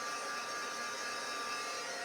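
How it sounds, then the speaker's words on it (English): A crafting heat tool like a hair dryer runs on high for heat embossing, a steady close whooshing blower hiss with a faint whine, unchanging throughout with no talk. "I am turning on my heat tool, and it's like a hair dryer for crafting."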